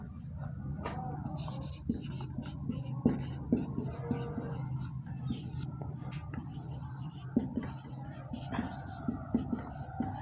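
Chalk or marker writing on a board during a lecture, heard as steady scratchy strokes and taps over several seconds with faint room noise and soft breathing.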